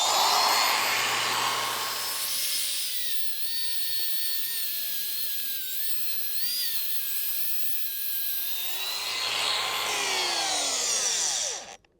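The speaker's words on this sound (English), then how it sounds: "When I completely set the angle grinder down, i.e. pass it over the lawn surface, we have a maximum depth of about 4 centimeters." Angle grinder running across a lawn surface to cut a shallow trench for boundary wire, a loud steady high-pitched whine with a dip in pitch under load in the middle, spinning down at the end.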